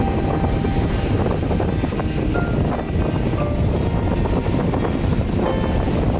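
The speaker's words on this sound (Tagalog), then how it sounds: "mahangin dito, mahangin" Strong wind buffets the microphone in a steady, roaring rush over Manila Bay near a yacht club, with choppy water beneath. The gusts stay loud and unbroken throughout, and no one speaks.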